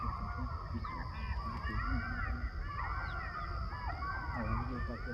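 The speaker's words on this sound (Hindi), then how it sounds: "ये मोर की आवाज़ है।" Peacocks calling in a quiet forest at night, with several overlapping honking, wailing cries rising over a steady hum of insects and other wildlife, some near and some farther off.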